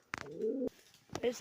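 A high-flying pigeon with red eyes gives two soft, low coos, a longer one followed by a short one, close but quiet, with brief handling clicks around them.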